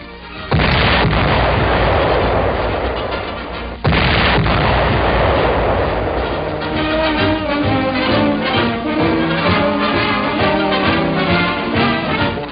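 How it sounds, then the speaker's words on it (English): The world's biggest cannon, a huge 1945 mortar, fires by remote control, sending out a massive booming blast with a second sharp report soon after, then a long rolling rumble heard through old newsreel sound with music. "The great offensive weapon is fired by remote control, and here the Signal Corps camera records its first shot in public."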